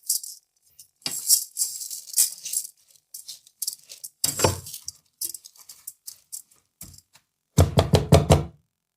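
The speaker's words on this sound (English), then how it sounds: "Give it a quick stir." Rice with tomato paste, sweet paprika and a chopped vegetable bouillon cube is stirred in a pot, giving sparse clinks and knocks of a utensil against the pot with quiet gaps between them.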